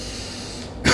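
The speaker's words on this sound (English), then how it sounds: "this cough's just driving me crazy" A single short, harsh cough bursts out at the very end after a stretch of low background noise, loud and close, from a man suffering a persistent cough.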